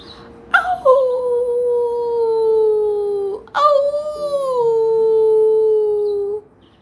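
A dog named Lucy lets out two long, anguished howls, each rising sharply and then sliding slowly downward, loud and close, with a brief break between them and faint background noise.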